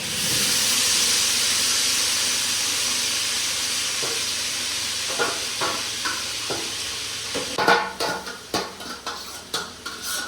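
Onion and tomato paste with garlic-ginger paste sizzles loudly in a pot of fried chicken, a steady close hiss that gives way to sharp metal clinks and scrapes of stirring in the final seconds.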